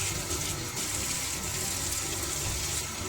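Tap water runs steadily into a sink while bowls and utensils are washed up after mixing Russian pancake batter, a continuous close hiss with no talking.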